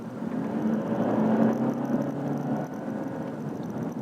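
A 2019 Toyota Camry Hybrid accelerates in eco mode, its engine and electric drive rising in a steady whirring drone that swells and then eases, heard from inside the cabin with no talk.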